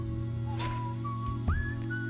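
A short whistled melody of a few sustained, sliding notes over a steady musical backing, from a song.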